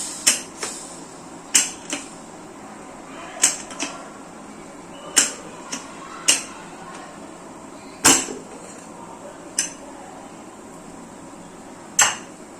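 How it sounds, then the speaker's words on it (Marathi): A pressure cooker holding cooked mutton is opened in a home kitchen, giving a series of sharp metallic clicks and knocks spaced a second or two apart over a quiet background. "दुसरीकडे आपण आता कुकर खोलूया"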